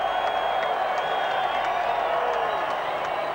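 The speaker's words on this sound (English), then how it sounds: "The crowd on their feet at long last at Palmerston North." Spectators at a 1995 New Zealand versus France rugby league match in Palmerston North cheer and applaud after a try, a steady mid-distance roar from the stands.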